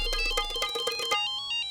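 A mobile phone ringtone plays a repeating melodic chime for an incoming call, somewhat quiet, then cuts off partway through.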